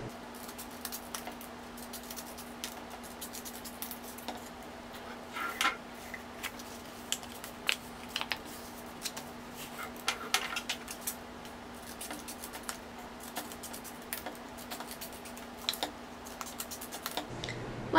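Scissors snipping paper into leaf-shaped pieces for fall leaf art, a soft, steady run of small crisp clicks and cuts over a faint constant hum, close and quiet with no talk.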